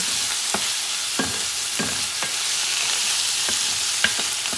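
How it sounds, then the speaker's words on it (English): Tiny chopped scallop pieces sizzle in a hot pan with a steady frying hiss, while a spoon stirs them in a series of sharp, irregular scrapes and taps, close and clear, with no talking. "Scallops, which are cut in tiny pieces. Mix it up. Mix all those flavors."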